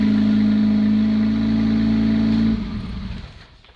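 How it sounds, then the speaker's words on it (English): A car engine runs loud and close with a steady mid-pitched hum, then drops and fades as it winds down, alone without talking. "I'll start the car"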